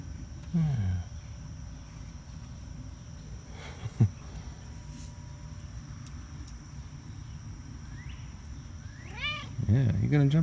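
A cat meows a few times, short rising cries at the start and again near the end, over steady outdoor background noise with crickets.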